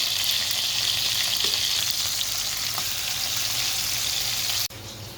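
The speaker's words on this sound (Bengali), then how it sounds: "মাছটাকে উল্টিয়ে পাল্টে নিচ্ছে একটু হালকা বেজে, এরকম করে ভাজলেই হবে" Steady, loud sizzling of fish frying in hot oil, a continuous crackling hiss that drops abruptly near the end.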